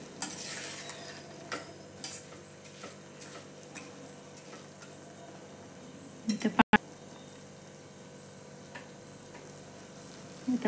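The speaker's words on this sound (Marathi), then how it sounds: "आपल्याला याच्यात हे चांगलं परतून घ्यायचे तांदूळ आणि डाळ" Rice and dal roasting in a pan while being stirred for kadhi khichdi: soft sizzling under occasional spoon scrapes and taps against the pan, fairly quiet, with one sharp knock midway.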